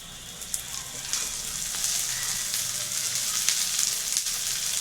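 Oil sizzles in a frying pan with roasted onion, a steady, fairly close crackling hiss with small pops and no talk over it.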